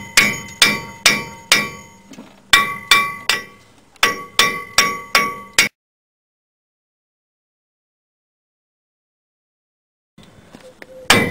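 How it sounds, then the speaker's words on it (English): Heavy hammer blows ring out on a Ford Super Duty brake rotor in quick rhythmic bursts of several strikes, loud and clanging, then a long silence before more hits resume. "now you take a really big hammer"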